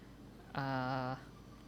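A 3D printer gives off a single squeak of about half a second, steady and tonal, moderately loud against a quiet room.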